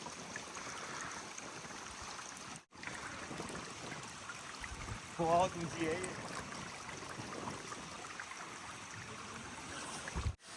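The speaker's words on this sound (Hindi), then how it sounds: "जिस पहाड़ी के नीचे बीच में गुफा है और ये झरना जाता है।" A waterfall pours down beneath a hill over a cave, heard as a steady broadband rush of falling water throughout, with someone speaking over it from a vantage point above.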